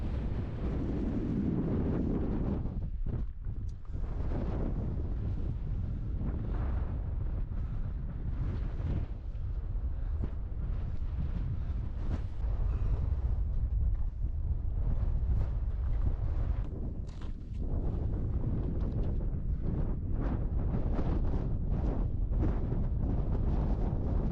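Strong, gusty wind roars across the microphone on a mountain top along Washington's Route 4, in steady buffeting blasts, loud and continuous for the whole stretch, with no voices.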